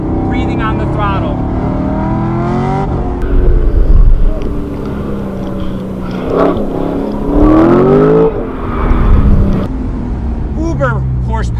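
Throttle blips from an LS3 V8 swapped into an ND Mazda Miata on a race track, rising and falling engine revs that swell in short bursts beneath continuous talking.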